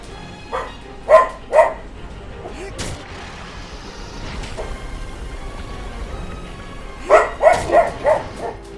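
Dogs barking in Shadow of the Colossus at night: two clusters of sharp, mid-distance barks, a couple near the start and a quicker run of four or five toward the end, separated by quiet ambience.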